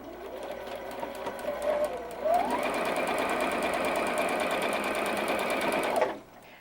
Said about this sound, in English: So now I'm able to just sew my 1/4 inch seam